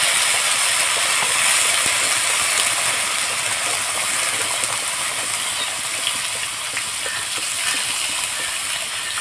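Water is poured into a pan of frying red lentils (masoor dal) and onions, setting off a loud, steady sizzling hiss that holds evenly throughout, with no voices over it.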